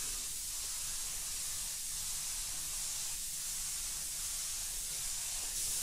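An airbrush lays light first coats of AutoAir Colors 4200 series transparent paint, giving a steady, close, continuous airy hiss with no break for the full length.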